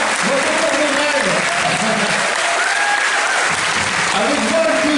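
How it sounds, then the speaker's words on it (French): An audience at a convention conference applauds loudly and continuously throughout, a dense wash of clapping with a few cheers rising above it. "Je vous demande de l'applaudir"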